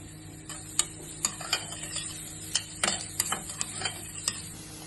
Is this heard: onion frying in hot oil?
yes